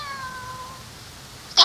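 A person imitates a cat with a single drawn-out, falling meow at moderate loudness, followed by a brief sharp noise at the end.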